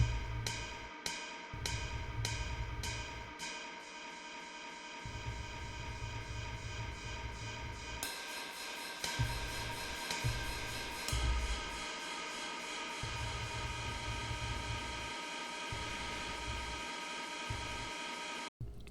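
Looped sample cycling continuously in the Rs5K sampler with a crossfade smoothing the loop point, a dense, noisy, textured sound with rhythmic low pulses and a brighter section partway through, steady and fairly quiet.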